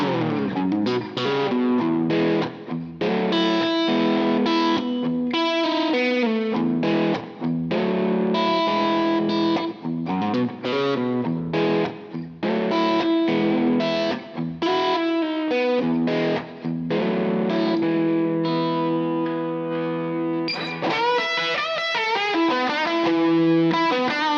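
Electric guitar, an SG, with a light, crunchy low-gain overdrive, playing a continuous run of lead notes and phrases, loud and close, with no talking.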